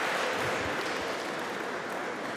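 A crowd applauds at a 2019 World Championships table tennis match between Ma Long and Vladimir Samsonov, a steady wash of clapping that fades slightly toward the end.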